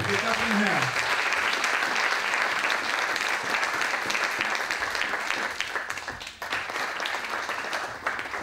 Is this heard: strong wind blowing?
no